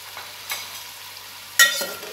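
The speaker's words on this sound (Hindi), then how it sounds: "अब चिकन को मैं इतना फ्राई करूँगी कि चिकन वाइट कलर का हो जाए।" Chicken fries in a pot with whole spices (cardamom, cloves and black peppercorns) under a soft, steady sizzle, broken by two quick scraping stirs of a spoon against the metal.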